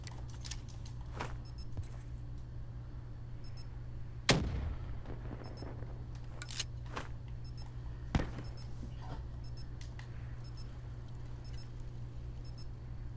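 A grenade detonates in a first-person shooter match, one sharp loud blast followed by a brief decaying rumble, with smaller thuds and gunfire pops scattered over a steady low game hum.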